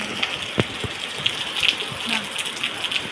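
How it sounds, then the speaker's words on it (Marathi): Rainwater pours off a terrace onto grassy ground during monsoon rain, a steady close wash of splashing water with scattered drips and thuds. "आपल्या टेरेसवरून पडणारं पाणी।"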